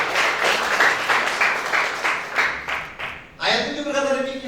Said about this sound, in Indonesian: Yang setuju tepuk tangan.